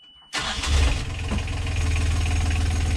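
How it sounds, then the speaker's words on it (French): Water pump motor starts abruptly after a moment of quiet, catching with a loud burst and then settling into a steady, close, low-pitched running drone. "je vais démarrer le moteur."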